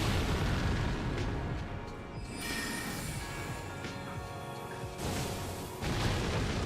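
Delayed bubble explosions from an Elden Ring PvP match, heavy booming bursts that rumble continuously with fresh blasts swelling near five and six seconds, loud and close with no talk.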